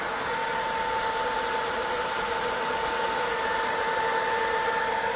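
The cooling fan of a diode laser engraver module runs close by with a steady, loud whirring hum and a constant whine, unchanging and with no voice.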